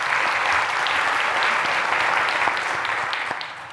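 A conference audience claps for trusted testers of Google Earth and Earth Engine products: brisk, full applause from a crowd that holds steady for a few seconds and then begins to taper off.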